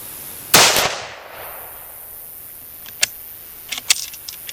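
A CZ-527 rifle in 7.62x39 fired at a target, one sharp loud crack with a decaying echo, followed later by a few fainter clicks and metallic clatter.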